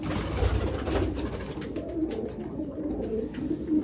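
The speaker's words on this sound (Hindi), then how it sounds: "VIP चूहे ब्रीडर कबूतर" Sialkoti breeder pigeons give soft, repeated throaty coos near at hand, a steady low murmur with a few brief knocks and rustles in the background.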